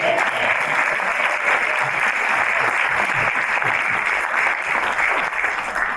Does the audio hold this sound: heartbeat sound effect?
no